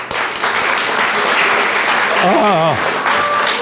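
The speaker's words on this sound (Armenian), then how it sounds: "Ծափարենք Մարիային։" An audience applauds a girl named Maria who has just stepped onto the stage at a school arts event. The dense, steady clapping carries through the whole stretch, with a brief whistled or whooping tone rising above it partway through.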